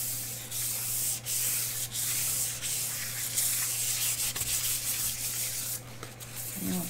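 Steady, close-up rasping of sandpaper scrubbed back and forth over a hard StoneCoat art resin surface, continuous throughout with a low hum underneath.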